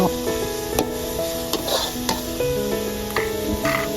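Vegetables are stirred and fried in a pan over medium heat, with a sizzle under repeated sharp spatula scrapes and clinks against the pan and faint tonal ringing in the background.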